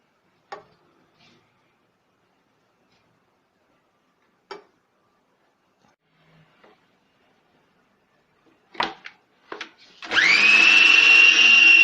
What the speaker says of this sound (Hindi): अब हम इसमें थोड़ा थोड़ा कीमा डालकर कीमे को बारीक कर लेंगे